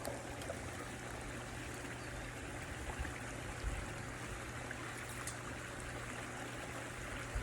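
A mixed drink poured through an improvised strainer, a faint, continuous trickling and splashing stream heard close.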